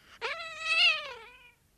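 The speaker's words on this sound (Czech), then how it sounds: "Pro změnu je to kočička." A black kitten gives a single clear, close meow, rising and then falling away over about a second and a half, with no other sound around it.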